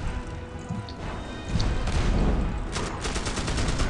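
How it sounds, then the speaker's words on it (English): M60 machine gun fire in the fantasy action game Magicka, a rapid rattling stream of shots that grows louder and denser midway, mixed with crashing impacts. "getting in the way of the M60 will kill you very quickly"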